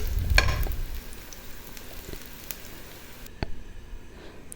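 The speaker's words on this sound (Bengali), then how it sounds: "তো এই পেঁয়াজটা ভাজা হয়ে গেলে আমি তুলে নিব" Onions frying in oil in a pan while making chicken roast, a soft continuous sizzle with a louder burst early on and occasional stirring clicks, heard close with no talking.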